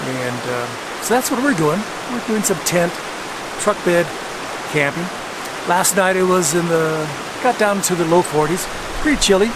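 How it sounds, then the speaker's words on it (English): A river rushes steadily in the background beside a truck-bed campsite in New Mexico, a constant hiss of flowing water under someone talking close by. "you can hear the river in the background"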